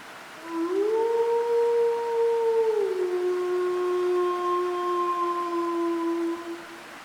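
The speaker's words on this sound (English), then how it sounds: "suddenly, the terrifying roar of a wolf shatters the silence of the night" A single long wolf howl rises, holds and slowly falls over a quiet night forest, clear and sustained for several seconds.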